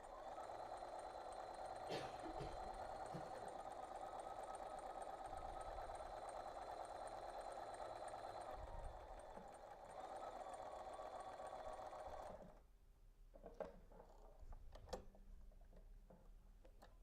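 A domestic sewing machine stitches quilt pieces for a star-pattern table runner, running as a steady close whir for about twelve seconds, then stopping, leaving a few faint clicks and handling sounds.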